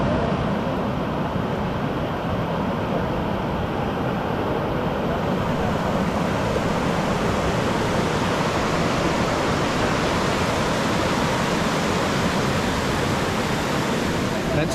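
Steady, loud rushing of a river on the descent from Mount Roraima, continuous broadband water noise filling the whole stretch with no pauses.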